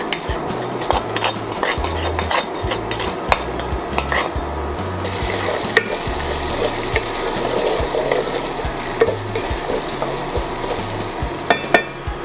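Lemongrass goes into hot chicken oil for chicken inasal, giving a soft ongoing sizzle with stirring and the clink of a utensil against the pot, over low music.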